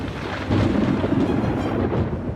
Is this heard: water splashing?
no